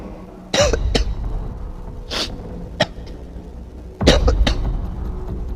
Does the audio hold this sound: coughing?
yes